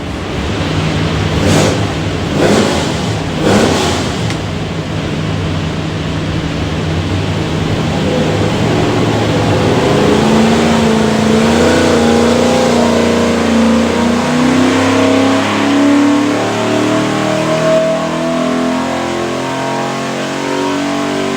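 A Ford 363ci V8 built for a Superformance GT40 roars on a dyno, loud and close, holding a steady drone before climbing in pitch through a long sustained pull as revs rise.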